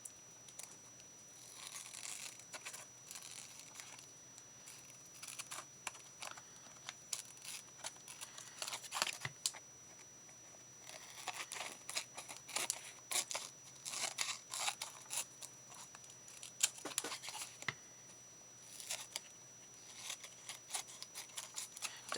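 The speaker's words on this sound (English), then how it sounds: "take my scissors and just trim this back this way." Scissors trim card paper for a handmade greeting card. Quiet, close crisp snips come in irregular bursts with short pauses between cuts.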